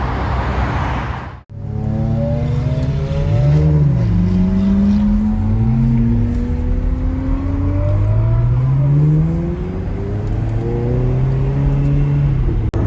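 Ferrari sports cars pull away from a rally start, with a loud close engine roar that revs up and shifts through rising and falling pitches, one car after another.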